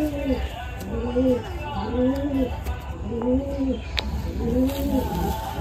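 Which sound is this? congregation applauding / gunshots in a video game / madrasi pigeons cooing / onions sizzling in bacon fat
madrasi pigeons cooing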